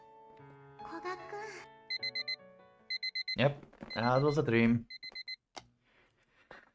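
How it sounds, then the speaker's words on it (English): An alarm clock rings in the visual novel Clockwork Ley-Line, sounding in short bursts of repeated beeps between stretches of soft game music, while a voice speaks in the middle. "My eyes drowsily open to the sound of the alarm."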